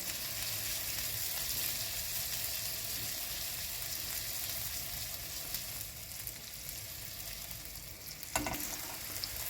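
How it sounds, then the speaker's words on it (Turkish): Steady crackling sizzle of chickpea meatballs frying in oil in a pan, continuous and close, with no voices. "Köftelerimizi tavamızda biraz kızartalım."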